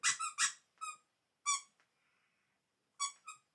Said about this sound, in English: Have you broken the squeaker in it already?